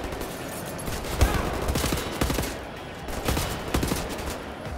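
Rapid video game gunfire from Wolfenstein: The New Order crackles throughout, dense repeated shots blending into a steady loud barrage with a few sharper bursts standing out.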